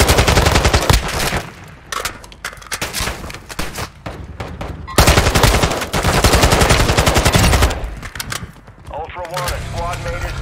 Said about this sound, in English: You are taking effective fire.